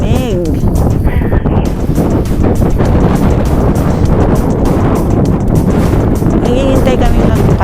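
Strong mountain wind in Nagano, Japan roars and buffets the microphone continuously, a loud broadband rush with gusty fluctuations throughout.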